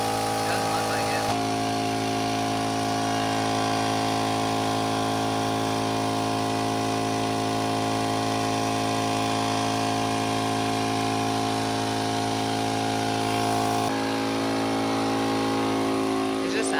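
Steady, loud motor drone of an air compressor inflating a John Deere riding lawn mower tire, running continuously throughout with a slight change in tone near the start and end.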